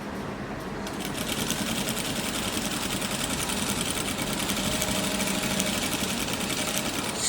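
A sewing machine runs steadily for several seconds, stitching fabric bias binding for patchwork with a fast, even mechanical whir close by and no speech.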